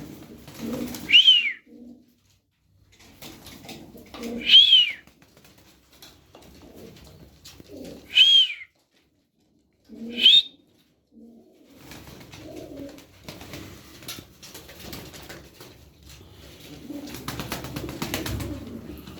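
Tumbler pigeons in a shared coop give four clear, separate coos at fairly even intervals, each close and distinct, followed by a low mixed murmur of background activity.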